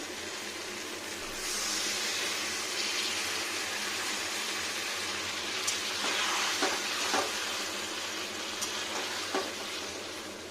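Water splashes into a pan of egg curry, setting off a loud, sustained sizzle and bubbling hiss. A few sharp crackles break through toward the end, with no talking.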